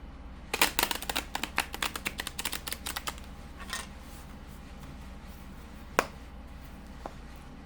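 Tarot cards are riffled and shuffled close by in a quick burst of crisp rapid clicks lasting a few seconds, followed by quiet and a couple of isolated taps.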